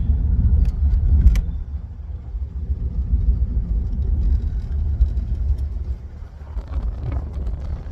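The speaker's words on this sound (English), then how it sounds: "Here we are continuing the ride in the beautiful Oldsmobile with Fred Monklin today." Interior ride sound of a 1963 Oldsmobile F-85 on the road, a steady low engine and road rumble with faint wind noise, continuous and fairly loud from inside the cabin, no talking.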